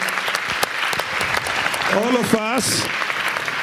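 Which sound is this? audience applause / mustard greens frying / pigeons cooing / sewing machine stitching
audience applause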